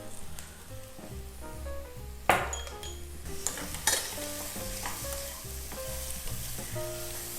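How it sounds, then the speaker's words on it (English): Mushrooms stir-frying in oil with a pinch of salt in a pan, a steady sizzle broken by sharp clinks and scrapes of a utensil against the pan, with background music layered underneath. "Stir fry with 1 small pinch of salt."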